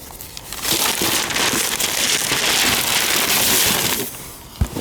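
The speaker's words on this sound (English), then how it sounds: "This paper stuff is what you want to start the fire." Newspaper flyers from Shaw's Market catch and crackle as a fireside fire starts, a dense, steady hiss of popping and snapping that rises and holds for several seconds before fading, with a sharp knock near the end.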